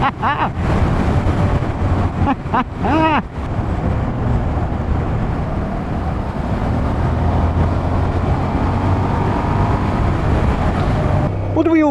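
A Suzuki SV650S motorcycle engine, about 20 years old with very high mileage, roars loudly and steadily accelerating hard in second gear, with a few brief voice sounds early on before the sustained drone takes over.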